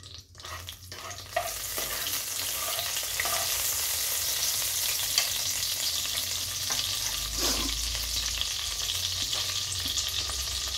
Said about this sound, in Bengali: এবার আমি একটু বাটার দিয়ে দিচ্ছি।